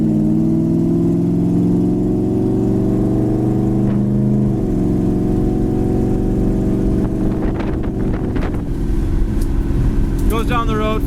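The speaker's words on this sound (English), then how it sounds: "As far as at an idle, it sounds really nice too." A 1968 Plymouth Satellite's loud, deep engine idles steadily up close with a rumbling, even tone that wavers slightly toward the end.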